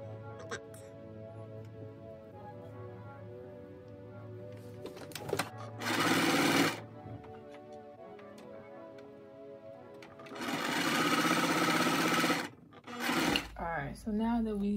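A sewing machine stitches a seam on a one-shoulder dress, two loud sustained whirring bursts of rapid stitching with someone talking between and around them.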